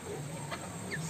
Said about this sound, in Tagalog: Merong manok.